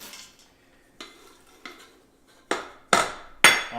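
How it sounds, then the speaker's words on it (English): Freeze-dried butternut squash dropping into an Instant Pot, a series of dry rattling clatters that grow louder and denser with each pour, close up and with no voices. "I'm going to put about 3 cups of butternut squash in."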